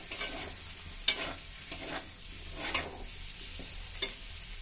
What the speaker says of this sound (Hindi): अब इसमें डालेंगे गरम मसाला, हरी मिर्च और अच्छे से भूनेंगे आलू को